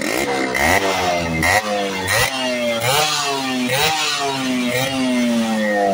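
Yamaha RX 135 two-stroke motorcycle with an altered silencer, revved repeatedly in loud rising and falling bursts, close by, its engine note climbing and dropping several times.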